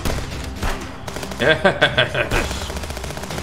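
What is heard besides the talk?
gunfire from enemy shooting in video game Contraband Police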